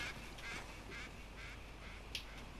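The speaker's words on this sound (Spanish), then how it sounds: "Se ha oído un pato." A duck quacks in the video game Uncharted 4, several faint quacks repeating over a steady background of ambient noise.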